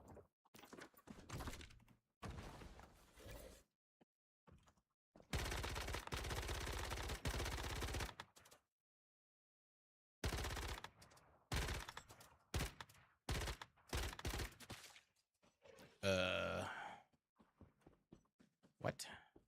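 Gunfire in the survival shooter Once Human crackles in repeated close bursts, some rapid automatic strings and some short volleys separated by silence, with a voice talking between the shots.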